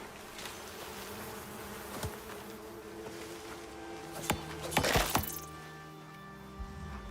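Bees buzz in a steady, soft drone throughout in the video game Icarus, with a few sharp clicks and a brief louder rustle near the middle.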